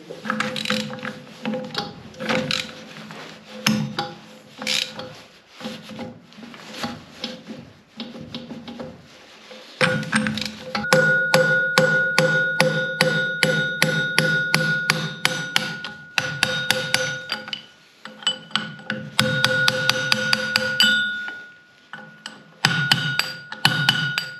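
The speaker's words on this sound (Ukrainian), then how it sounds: "методом старого діда воно пішло зубилом і молотком" Repeated sharp metallic strikes of a hammer on a chisel, working on a seized K750 motorcycle engine, ring out in bursts, with brief pauses between sequences, close and loud.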